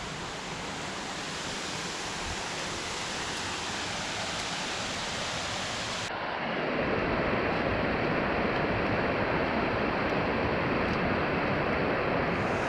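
Water runs down a rock face into a creek on a scramble path to the base of a waterfall in North Carolina, a steady, dense rushing wash that swells louder and fuller halfway through, with no voices.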